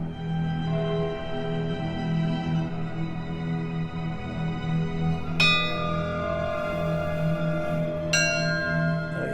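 Church bells, donated from the town of Tutaev, ring out twice, each strike bright and resonant with a long humming decay, over a low steady drone.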